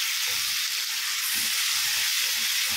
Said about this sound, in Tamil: தக்காளியும் ஆட் பண்ணி வச்சு நல்லா வதக்கி விடுவோம்.